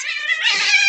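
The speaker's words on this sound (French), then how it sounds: "une bagarre de chats, c'est pas les enfants, les chats." Fighting cats let out a loud, harsh yowl, a single sustained screech that fills the whole second at close range.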